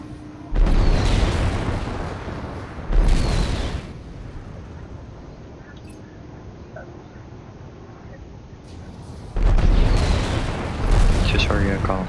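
Rocket fire and explosions in the space combat game Strike Suit Zero: Director's Cut, with loud booming bursts near the start and again toward the end, separated by a quieter stretch of lower rumble and game sounds.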